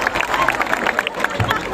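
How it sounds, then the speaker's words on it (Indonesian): Congregation at a Pentecostal revival service in Manado clapping together in a dense, steady wash of applause with some cheering, crowd noise filling the hall throughout. "berikan tepuk tangan yang meriah"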